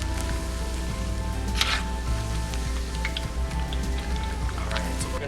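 Seitan pieces fry in hot oil, giving a steady crackling sizzle with scattered pops and spatters that carries on evenly at close range.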